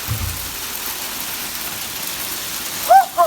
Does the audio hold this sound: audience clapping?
no